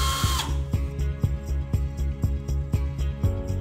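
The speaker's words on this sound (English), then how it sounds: "Using a drill and T20 Torx drill bit, remove the 2 screws that mount the injector holder from behind the range." A power drill fitted with a T20 Torx bit backs out screws from the back of a Hisense gas range, a steady motor whir with repeated sharp ratcheting clicks at regular intervals, close and alone.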